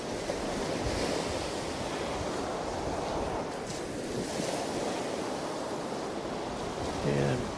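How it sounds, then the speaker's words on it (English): Ocean waves break in the surf on an Outer Banks beach in November, a continuous loud wash of rushing whitewater with swells that rise and fall, mixed with wind buffeting the microphone. "Right there where the waves pop up."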